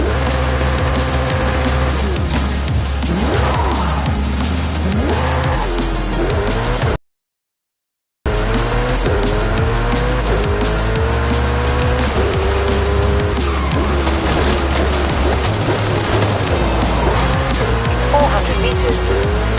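A Volkswagen Golf GTI racing in Forza Horizon 5, its engine roaring continuously with rising and falling revs and tire squeals, loud and close, broken by a brief silent gap in the middle.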